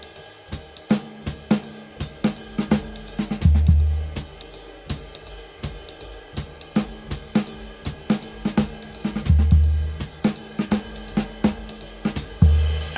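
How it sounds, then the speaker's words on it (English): Jazz drum comping on a kit: a steady ride cymbal pattern wash runs throughout while sharp snare hits and deep kick drum thumps fall in irregular syncopated accents, close and fairly loud with no talking. "whilst maintaining the jazz ride cymbal pattern over the top"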